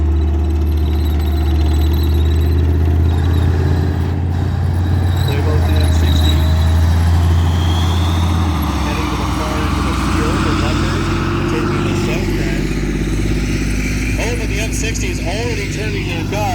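An M60 tank drives past at a tank museum, its heavy engine rumble loud and steady throughout, shifting in tone about halfway as it moves by, with voices faintly underneath.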